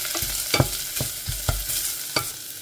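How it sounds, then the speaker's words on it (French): Shallots sauté in a little olive oil in a pan, giving a steady close sizzle broken by a few sharp spoon scrapes at a regular pace, with no voices. "Je vais mettre un petit peu d'huile d'olive et je fais revenir les échalotes en premier"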